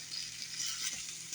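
Carrots just taken out of the oven, sizzling in the pan with a steady faint hiss and crackle, close by and alone.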